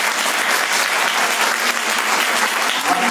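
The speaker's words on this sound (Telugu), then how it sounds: "और परमेश्वर ने जो कार्य चमत्कार मेरे जीवन में किया उस महान परमेश्वर के लिए जोरदार तालियां हो।" Loud, sustained applause fills a church meeting hall as a congregation claps continuously and evenly for several seconds, with no pause or break in the sound.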